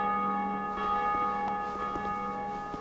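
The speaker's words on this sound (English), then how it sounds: "Then we ring the bell." A large bell in a belfry in the video game Dark Souls 2 rings, its rich sustained tone lingering and ringing out loud over the whole span, heard alone.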